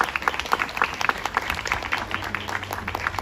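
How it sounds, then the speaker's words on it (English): Applause from an audience at a library fashion show fundraiser at Queen Emma's Summer Palace, honoring a harpist: steady scattered clapping, moderately close, continuing throughout. "let's give a warm round of applause"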